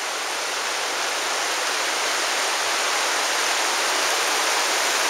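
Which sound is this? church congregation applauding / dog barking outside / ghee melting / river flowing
river flowing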